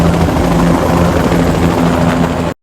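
A helicopter from the hospital drama The Pitt thunders loud and close with dense continuous rotor chop, sustained throughout before cutting off abruptly.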